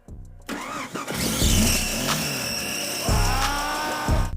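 A Jeep Grand Cherokee engine is started in the woods, cranking and catching, then running steadily with a few revs, fairly close and alone.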